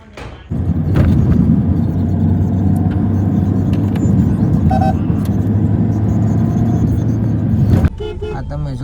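A car is driven out at the start of a family outing, its engine rumbling steadily and close for most of the clip after a sudden start, then cutting off near the end, with talk over the engine.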